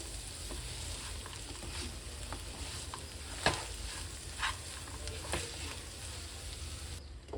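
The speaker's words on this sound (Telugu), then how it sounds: "అల్లం వెల్లుల్లి పేస్ట్ ముక్కలకి కలిసేలా మంచిగా ఇలా కలుపుకోవాలి" Quail pieces coated in ginger-garlic paste are stirred in a hot pan for a village-style curry, giving a steady close sizzle broken by scattered scrapes and knocks of the spoon.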